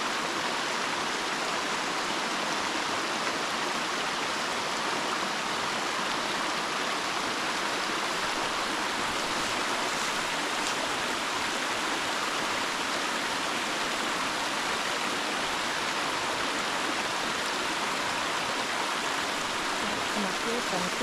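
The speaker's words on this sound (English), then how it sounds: "listened to the creek while I was eating my lunch" A creek rushes steadily in an outdoor setting on State Game Lands 211, a dense, unbroken wash of flowing water that stays even and close with no voices over it.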